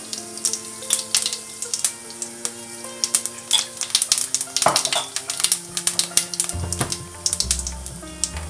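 Cumin seeds crackle and sizzle in about two teaspoons of hot oil in a pan, a steady spattering fizz with sharp pops and occasional clinks of a utensil against the pan.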